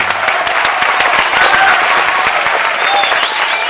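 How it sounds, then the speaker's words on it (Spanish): Steady applause from a friend standing behind the glass of a radio studio, dense clapping that holds at an even level throughout, with a voice or two briefly audible beneath it. "Y ese que nos aplaude es un amigo"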